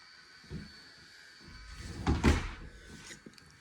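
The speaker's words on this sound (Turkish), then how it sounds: "Şu Kapıyı bir örteyim de." An indoor door is pushed shut with a brief rustle and then a single soft thud, close and fairly quiet, with no one talking.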